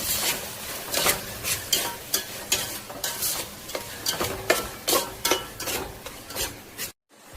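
Vegetables with capsicum stir-fried in oil in a pan, giving a steady sizzle broken by rhythmic scraping strokes of a spatula against the metal, close and fairly loud, with no talking.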